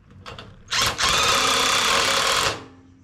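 Press tool pushes a new washer into a RockJock Johnny Joint during a flex joint rebuild: a short mechanical whir, then a loud sustained grinding drone for about two seconds before stopping.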